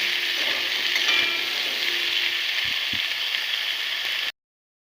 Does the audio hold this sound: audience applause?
no